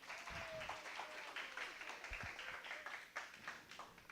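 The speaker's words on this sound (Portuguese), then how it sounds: "Uma salva de palmas para o Murilo." An audience gives a round of applause for Murilo, a faint, fairly distant patter of many hands clapping that swells unevenly, with some voices mixed in.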